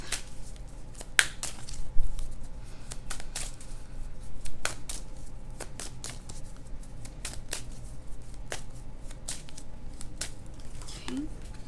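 Tarot cards being shuffled and handled in a card reading, a steady patter of soft snaps and riffles close by, with quiet movement between the card sounds and no talking.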